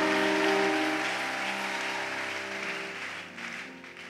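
A church congregation applauds and cheers for Jesus, a dense wash of clapping over sustained tonal sound, loud at first and slowly fading.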